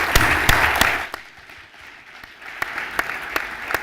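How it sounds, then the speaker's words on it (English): Audience applause after a panel discussion at a conference, a burst of clapping that thins out partway through, then picks back up into scattered claps. "Please give a warm round of applause."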